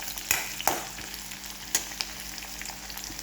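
Green chillies and onion sizzle in hot oil for upma, a steady frying hiss with a few sharp clicks of stirring, close and moderately loud, with no voices.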